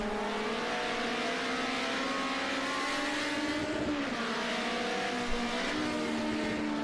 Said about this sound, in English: Really do enjoy the sounds of these BMWs just on the change. You can hear those valves are bouncing.